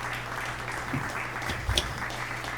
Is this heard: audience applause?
yes